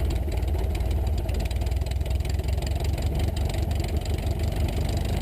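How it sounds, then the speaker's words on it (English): A light aircraft engine idles on the ground during a pre-takeoff idle check with rich mixture and carb heat on, a steady close, loud low rumble that holds even without stumbling. "do an idle check. Sure the engine doesn't stumble when at idle"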